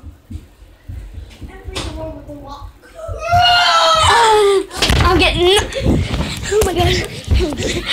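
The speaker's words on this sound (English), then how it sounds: "He's literally screaming." A person screams during a prank, high wailing cries rising and falling amid excited overlapping voices, with a sharp thud partway through.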